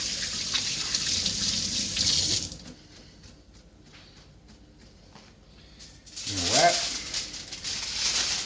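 Raw ribs are rinsed under a running kitchen tap, with a steady stream of water that cuts out for a few seconds and then resumes loud and close.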